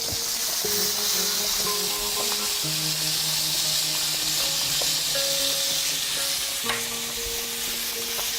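Garlic hitting a hot pan with shrimp sizzles steadily and loudly, a dense continuous frying hiss with stirring that runs the whole time, with faint tonal hums underneath and no talking.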